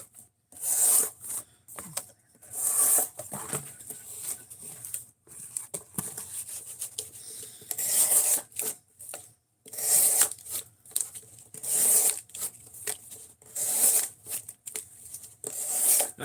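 A D2 steel knife blade drawn across a 5000 grit whetstone in rhythmic, close, scraping strokes, coming in short bursts with brief pauses between passes.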